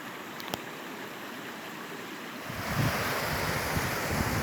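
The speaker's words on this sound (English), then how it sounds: "Just found these awesome waterfalls." Small waterfalls pour from a culvert between lakes in the Northern Ontario outdoors, a broad rushing roar that swells louder midway, with some wind buffeting the microphone.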